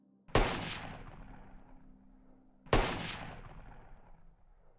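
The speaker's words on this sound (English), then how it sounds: "Two more shots ring out." Two sharp, loud gunshots about two seconds apart, each with a long reverberating tail that decays slowly.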